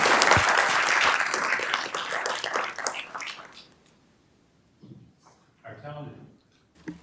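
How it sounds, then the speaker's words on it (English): Audience applause at a school board meeting honoring middle and high school student artists, a dense burst of clapping that fades out after about three seconds, followed by faint rustling and scattered small sounds in a quiet room. "Please put a round of applause for these students and these schools."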